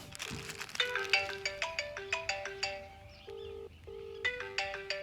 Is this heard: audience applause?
no